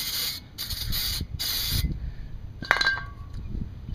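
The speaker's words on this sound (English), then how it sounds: "Spray them down with brake cleaner." Several short bursts of brake cleaner spray hiss close up, four quick blasts in a row, followed by a few metallic clinks and rattles.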